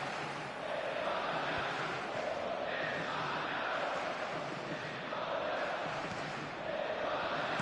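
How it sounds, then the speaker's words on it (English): Stadium crowd at a World Cup round-of-16 football match between the Netherlands and Spain gives a sustained roar of applause and cheering, a dense steady wash of many voices heard at a distance. "at least the crowd are appreciative of his efforts"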